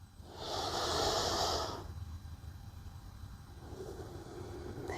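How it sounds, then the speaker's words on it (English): Deep yoga breathing during a hip-opening pose, one long audible exhale hissing through the mouth, followed by a quieter, softer breath drawing in. "Let's go 3 more rounds of breath here."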